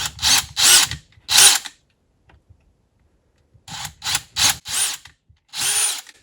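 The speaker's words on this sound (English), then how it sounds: "make sure you are center inside the hole and drill" Bursts of power drilling into drywall, three short runs, a pause, then five more, each a whirring grind through the material, close and loud.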